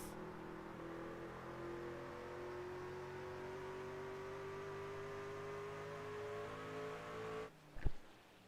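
Race truck engines drone steadily in a PC racing game at Phoenix, a sustained whining engine note slowly rising in pitch, then a sudden brief thump and burst of noise near the end.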